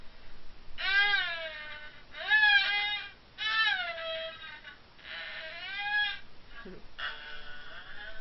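A haegeum imitates a cat's meow in five sliding, whiny phrases, each rising then falling in pitch, separated by short pauses.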